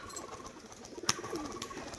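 A male pigeon coos softly amid low background noise, a short throaty call with a brief flutter partway through.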